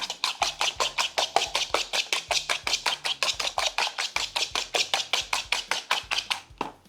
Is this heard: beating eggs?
yes